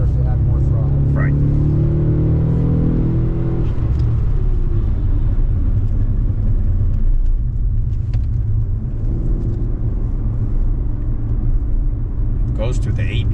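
A car engine at a track day drones and rumbles loudly inside the cabin, rising as throttle comes on, with people talking over the steady engine noise.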